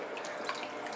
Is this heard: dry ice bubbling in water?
yes